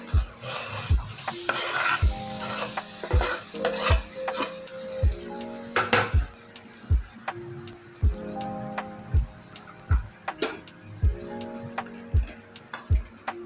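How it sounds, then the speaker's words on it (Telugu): Jaggery melting in a pan and being stirred into syrup for flax seed laddu, with repeated spoon scrapes and knocks against the pan over a soft bubbling sizzle, close and steady throughout. "ఇంట్లో బెల్లం పానకం పట్టాలి. ఇగో బెల్లం వేస్తాను."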